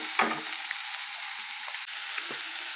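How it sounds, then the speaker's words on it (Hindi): Capsicum and potatoes fry in a pan with onion, giving a steady close sizzle broken by a few stirring scrapes. "शिमला मिर्च डालकर भी एक मिनट और फ्राई कर लेंगे।"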